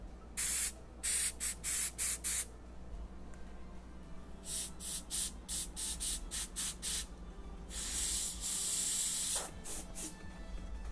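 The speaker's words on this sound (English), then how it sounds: "just kind of spritz it on." Short hissing bursts of spray paint hit a plastic Jeep dashboard from a distance, first in quick rhythmic puffs and later in longer blasts. The sound is fairly near and heard without talk.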